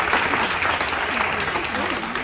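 Audience applause aboard a Disney cruise ship, a dense steady burst of clapping from a crowd, loud and continuous throughout.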